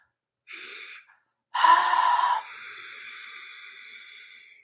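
Throat-constricted ujjayi breathing during a yoga practice, with a short rasping breath, a pause, then a louder hissing rush that tapers into a long, steady, ocean-like exhale, close and clear with no talking.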